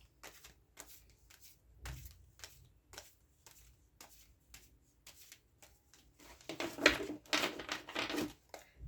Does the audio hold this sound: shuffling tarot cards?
yes